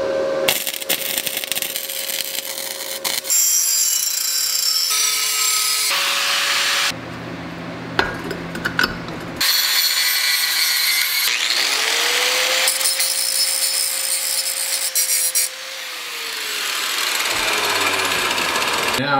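A power tool trims and grinds excess sheet metal on a custom forward controls mount for a Honda Grom, a loud, close, continuous metallic shriek and whine with changing pitch and brief pauses between cuts.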